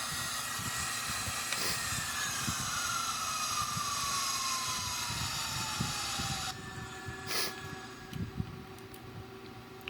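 Airbus A340 reverse thrust during landing rollout in a flight simulator game: a steady, loud broadband engine roar and hiss with a slowly falling whine, dropping abruptly in level near the end as thrust is reduced.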